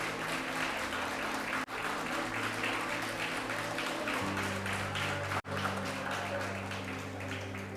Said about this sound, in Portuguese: Pode aplaudir, se é para Jesus é mais forte